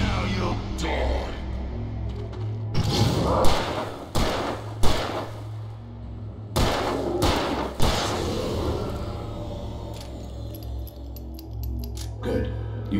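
Sharp gunshots from Alan Wake Remastered, several loud bangs fired at irregular intervals over a low droning game soundscape, with later shots spaced apart and quieter tones in between.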